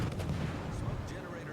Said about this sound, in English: Yep, we're shooting at the Gorky.